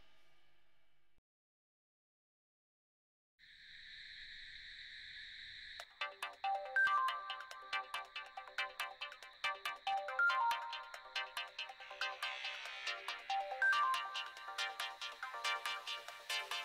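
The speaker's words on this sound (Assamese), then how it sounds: "সেইটো তোমালৈ অহা ফোন, আমালৈতো কোনে ফোন কৰিব?" A mobile phone ringtone in an Assamese family drama: a steady electronic tone begins after a short silence, then a loud, bright melodic ringtone repeats its phrase over and over, with no voices.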